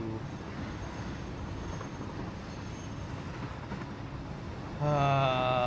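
Train running in the video game Satisfactory: a steady mechanical rolling rumble continues throughout, joined near the end by a louder, tonal whine or horn-like sound, with no talk.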